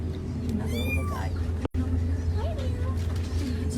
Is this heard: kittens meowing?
yes